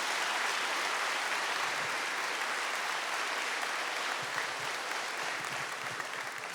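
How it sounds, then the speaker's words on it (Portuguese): A large congregation at a Catholic preaching gathering gives a sustained round of applause, a dense, even wash of clapping from many hands that stays steady throughout, heard from within the hall. "Dá uma salva de palmas para o Padre Jonas."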